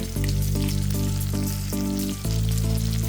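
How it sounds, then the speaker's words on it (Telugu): Onion with ginger-garlic paste frying in a pan for Andhra-style chicken fry, a loud, steady close sizzle with short pauses and bursts as the mixture is stirred. "అల్లం వెల్లుల్లి పేస్ట్ కూడా పచ్చివాసన పోయేదాకా వేగనివ్వాలి."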